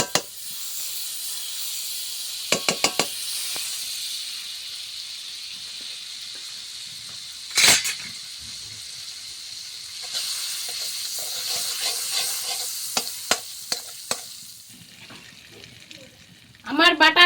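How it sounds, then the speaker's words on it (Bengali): Butter melting in a hot kadai gives off a steady soft hiss and sizzle that runs throughout. A few sharp clicks and knocks cut in along the way, with a louder clatter near the end. "এবার আমি কড়াইতে বাটার দিয়ে দেবো 2 চামচ।"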